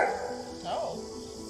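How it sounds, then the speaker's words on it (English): A dog gives a short, sharp bark and a yelp in a brief, close burst, partly mixed with people talking. "That bark a little too intense."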